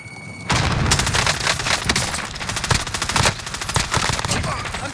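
Gunfire in Call of Duty: Modern Warfare Warzone: after a brief quiet start, loud, rapid automatic bursts and overlapping shots keep up without pause, close and harsh.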